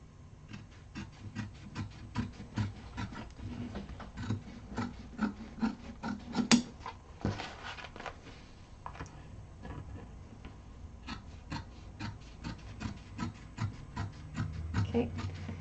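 Scissors trimming fabric seam allowances on a sewn wallet: a long run of quick, close snips and soft rubbing scrapes in an uneven rhythm, fairly faint, with a slightly louder rustle midway and no talking.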